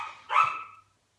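A dog barks once, a loud close bark with a short tail, then silence.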